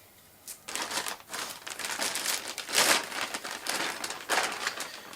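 Crinkly plastic rustles as a Silent Angel Bremen SL1 Plus music streamer is drawn out of an oversized sealed plastic bag, close and fairly loud in uneven bursts with no talking.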